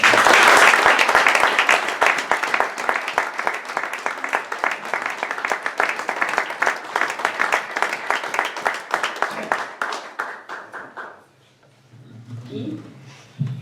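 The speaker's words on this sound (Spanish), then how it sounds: "Pido para él un fuerte aplauso." Audience applause at a monthly Tuesday poetry evening in October 2019: a roomful of people clapping loudly and steadily, then thinning out and fading to a few scattered claps and murmurs at the end.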